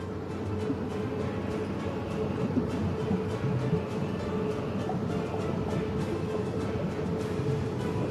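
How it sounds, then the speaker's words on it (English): A freight train unloading in the Workers & Resources: Soviet Republic video game, a steady low rumbling clatter with faint rhythmic clicks, continuous and moderately loud with no voices. "That train should empty itself out now."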